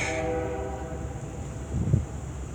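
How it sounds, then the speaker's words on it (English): A train passes in the background, its horn blaring at first and then fading into a steady low rumble of rail traffic, with no voices. "Train going off in the damn background."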